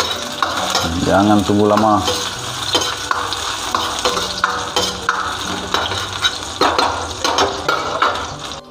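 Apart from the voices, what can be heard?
shallots, garlic and chili added to hot pan, sizzling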